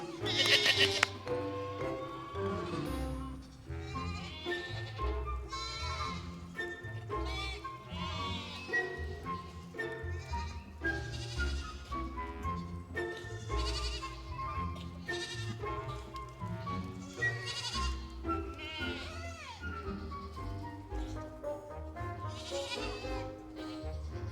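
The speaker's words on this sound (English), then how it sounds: "Come on, goats!" Goats on a country farm bleating repeatedly and wavering, over steady background music that runs throughout.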